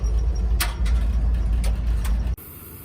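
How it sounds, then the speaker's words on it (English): A 1970 Dodge D200 pickup with a 318 engine and stick shift runs down the road, pulling a little to the left under braking, giving a steady low engine and road rumble that cuts off abruptly near the end. "We were driving my new prize here, the 1970 D200, 318 stick"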